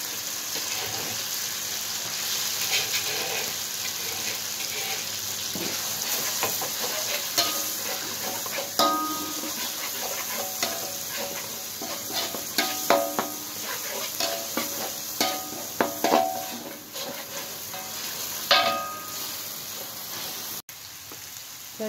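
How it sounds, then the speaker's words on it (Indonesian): Spice paste for a beef trotter tongseng is sautéed in oil, giving a continuous bright sizzle with frequent spatula scrapes and stirring clatter. The stirring grows busier toward the end, and a faint sound of running water sits in the background. "Kita tumis sampai harum."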